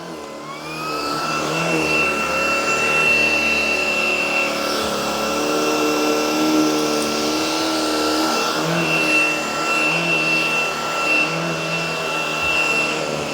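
A Shark PowerPro Flex Pet cordless stick vacuum, model IZ387H, runs steadily at normal suction with a continuous, fairly loud motor whine and airflow hiss, holding an even pitch throughout with no talking.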